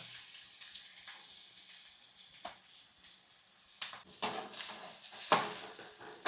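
Finely chopped onion fries in oil in a pan, a soft, steady sizzle broken by a few sharp clatters and bursts of stirring, close and with no talk.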